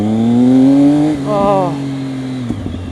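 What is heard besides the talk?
motorcycle engine revving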